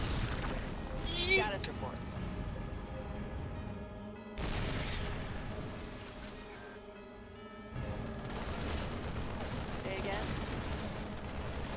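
Gunfire and explosions from the StarCraft II video game rattle in dense bursts with heavy booms, broken by two brief pauses, while game voices talk over the combat.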